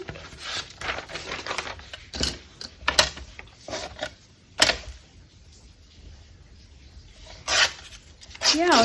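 Paper torn by hand while crafting journal pages, a series of short crisp rips and crackles in irregular bursts, fairly close, with a few louder tears near the end and no talk.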